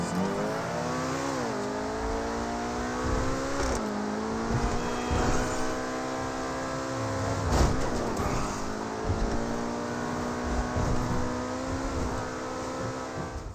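Sustained car engine from a new Obey vehicle driven around the city in GTA Online, revving and shifting through gears with rising and falling harmonic whine, loud and steady throughout with no talk.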